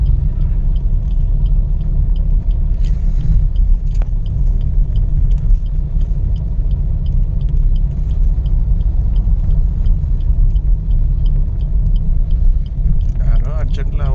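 A car drives along a foggy road near Chengalpattu with its parking lights on, a steady low rumble of engine and tyres continuing throughout, with the speaker's voice running over it.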